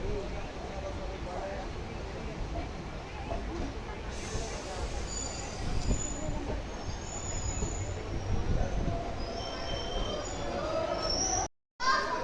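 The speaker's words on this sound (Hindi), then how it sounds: "ट्रेन अपने चौथे हॉल्ट बिलासपुर रोड पहुंच चुकी है" The Uttaranchal Sampark Kranti Express pulls into the single-platform Bilaspur Road station, a continuous rumble of wheels and carriages heard from on board, with a faint squeal and a brief cut near the end.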